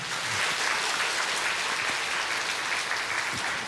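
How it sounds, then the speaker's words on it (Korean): Worshippers at a Sunday church service clap to welcome a new catechumen, a steady, dense round of applause that holds at an even level throughout. "자, 이제 우리 박수로 한번 환영하시겠습니다"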